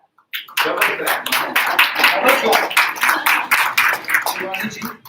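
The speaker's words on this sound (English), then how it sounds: "Double clap." Class participants clapping together in a double-clap pattern, close and crisp, a quick run of sharp hand claps lasting several seconds.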